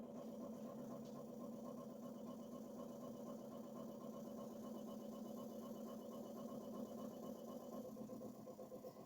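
An embroidery machine runs a slow trace while stitching a hoodie held in a Mighty Hoop, giving a faint, steady mechanical hum with a fine, even rhythmic stitching pulse throughout.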